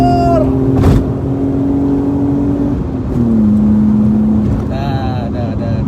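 A BMW E36 323 with a naturally aspirated inline-six engine revs up toward 7100 rpm, its rising tone held loud and close, then dropping and climbing again, with a voice talking over it.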